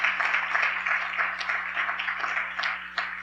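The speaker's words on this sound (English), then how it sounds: "let's give them all a big round of applause" Applause for a girls varsity swim and dive team at a board meeting, a steady patter of clapping from a small audience, fairly faint and distant.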